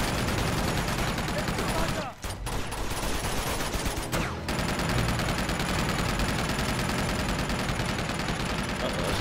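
A mounted machine gun fires in Uncharted 2 Among Thieves during the Siege level, a continuous loud stream of rapid shots with two brief breaks, dense and relentless throughout.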